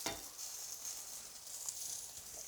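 A pat of butter sizzling in a pan with haricots verts, a steady bright frying hiss with small crackles and stirring, close and continuous with no talking.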